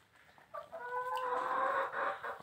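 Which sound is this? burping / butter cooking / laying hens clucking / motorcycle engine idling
laying hens clucking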